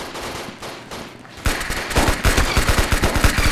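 Gunfire in the Roblox game Ragdoll Engine, rapid bursts of shots in quick succession that start abruptly after a quieter stretch and continue in a fast, uneven stutter.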